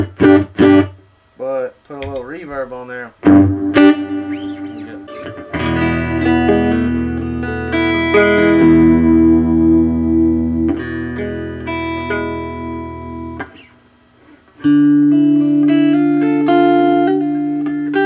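Electric guitar with reverb, a restored Teisco, rings out sustained chords and picked notes with a ringing tail, loud and close, pausing briefly before a final strummed chord.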